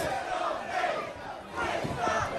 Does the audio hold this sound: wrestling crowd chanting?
yes